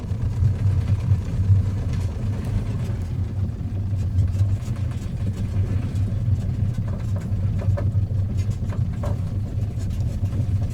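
A Piper J3 Cub engine in Microsoft Flight Simulator 2020 runs with a steady low-pitched drone, an even idling hum throughout with no speech over it.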